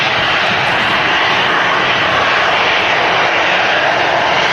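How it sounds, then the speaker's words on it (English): An EasyJet airliner arriving from Paris at Manchester Airport, its engines a loud, steady, broadband roar that fills the whole stretch without a break. "This EasyJet in from Paris, left 1 hour 22 minutes ago."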